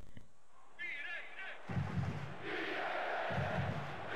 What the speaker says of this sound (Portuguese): olha essa torcida